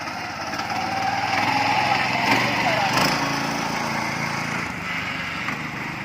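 A power tiller hitched to a braked trailer, on a test run, with its small engine held at high revs: a loud, steady, close-up mechanical drone that swells briefly around the middle.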